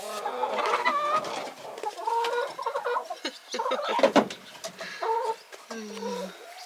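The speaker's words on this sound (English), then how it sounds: "What a bunch of silly chickens." Several hens cluck and squawk in overlapping bursts close by, a busy, chattering flock with short calls rising and falling as they settle for bed.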